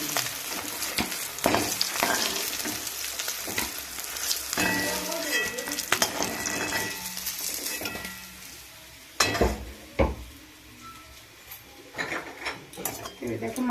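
Bhetki fish frying in oil in a pan, a continuous close sizzle and crackle with stirring scrapes and a few sharp clatters of a spatula, faint talk in the background.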